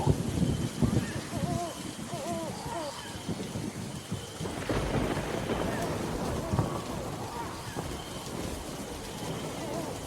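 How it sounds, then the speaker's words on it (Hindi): Dense rainfall hisses steadily throughout, with scattered heavier splashes and faint voice-like sounds mixed into the downpour. "इस तेज बारिश की बूंदें शरीर पर सुई चुभना सा लग रहा था"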